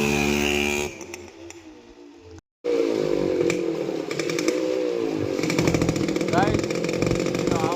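A modified Yamaha RX100 two-stroke motorcycle engine revs hard and buzzes loudly at close range, dropping briefly before roaring back, while someone talks over it.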